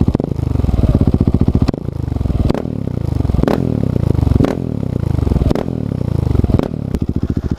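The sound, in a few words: motorcycle with Akrapovič exhaust, no dB killer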